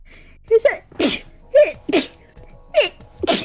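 A person sneezes three times in quick succession, each a sharp inhaled gasp followed by a loud explosive burst, close and clear.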